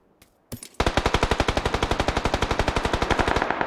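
An AKM rifle fires in a video game: after a couple of brief shots, a rapid sustained burst of evenly spaced automatic gunfire rings out loud and close for about three seconds, with no voices.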